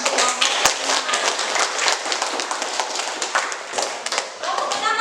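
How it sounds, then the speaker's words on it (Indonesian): Classroom applause for a student group: many hands clap quickly and unevenly for several seconds at close range, with some tapping and voices mixed in. "Kita kasih tepuk tangan untuk kelompok 5."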